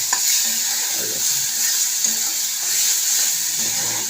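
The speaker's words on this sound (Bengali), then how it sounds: "টমেটোর যে জলটা, এটা দিয়েই নারকেল গুঁড়োটা সুন্দর ভাজা ভাজা হয়ে যাবে" Grated coconut fries with tomato in a pan with a continuous bright sizzle, accompanied by soft scraping and stirring strokes at an even pace.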